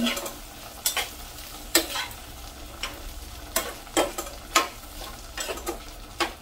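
Buttered garlic shrimp being stirred in a pan, with a soft steady sizzle underneath and repeated sharp scrapes and clicks of the utensil against the pan, close and moderately loud.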